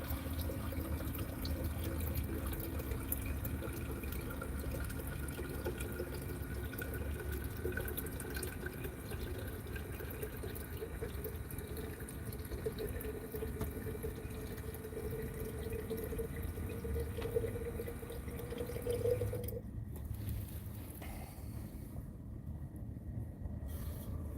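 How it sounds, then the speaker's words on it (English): Water running from a tap at a desert campsite in Quartzsite, a steady faint trickle that ends abruptly near the close, with no talking. "I'm gonna get some more water."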